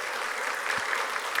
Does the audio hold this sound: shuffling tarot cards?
no